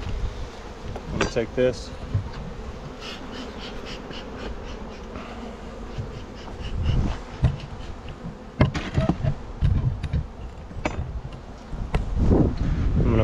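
Honey bees buzz steadily around an open hive box during a brood inspection, a continuous insect drone with wind noise, while someone talks over it and handles frames.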